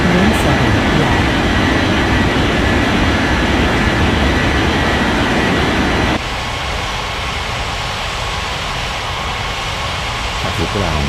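Airliner taking off from runway 17 left in an air traffic control game: a steady, loud broadband jet roar that drops to a lower level partway through, with a radio voice speaking over it.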